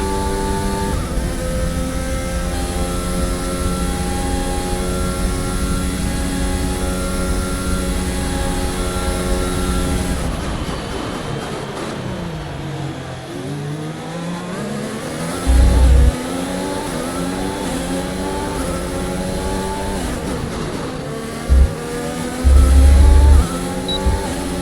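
Formula 1 race car engine in the F1 2021 video game, a loud, sustained high-revving whine with rising and falling pitch through gear changes, dipping mid-lap before climbing again, with occasional low thumps.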